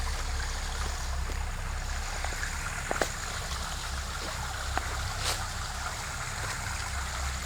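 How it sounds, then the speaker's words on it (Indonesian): A river flowing over slippery rocks makes a steady, close rushing and trickling wash with a few faint clicks and knocks. "Ini sungai"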